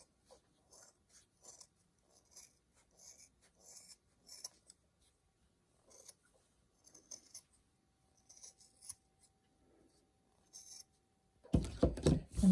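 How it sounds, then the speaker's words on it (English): Scissors snip away excess material on a no-sew craft nurse gnome, a run of small, crisp cuts and rasping rubs close up, fairly quiet, with a louder rustling burst at the very end. "Take a pair of scissors and cut off the extra."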